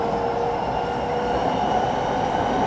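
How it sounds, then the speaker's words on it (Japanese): A Hitachi-built Thai passenger train travelling from Bang Sue Central toward Chiang Mai, heard from inside as a steady, loud rumble with a constant hum and faint wheel noise, without speech. "日本の電車の音全く一緒。"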